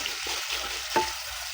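Garlic dropped into a hot pan for adobo sizzles as a steady broadband frying hiss, with a brief sharper spatter near the middle, close and alone.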